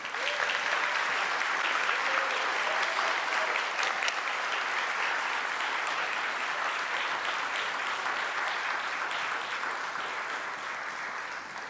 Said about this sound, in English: And for everyone, let's give another round of applause for Sean.